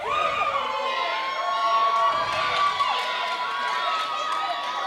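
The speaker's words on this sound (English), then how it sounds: "Crowd still shouting while Chip's taking elbows to" A pro wrestling crowd in a small venue shouts and cheers continuously, loud and close, with overlapping high voices and whoops sustained throughout.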